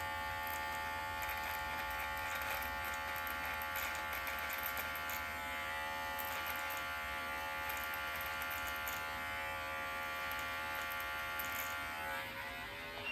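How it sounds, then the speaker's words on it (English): An electric beard trimmer runs close up with a continuous high buzz, its tone shifting slightly as it cuts through beard hair. "You've got to just lift the beard trimmer up, away."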